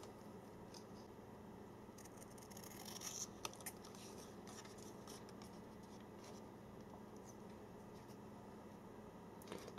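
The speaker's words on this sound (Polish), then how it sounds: "Ta karta jest dość twarda, ale dobre nożyczki sobie z tym radzą." Sharp scissors snip through a stiff plastic SIM card, making faint, irregular crisp cuts and scraping clicks up close in a quiet room, with no voices.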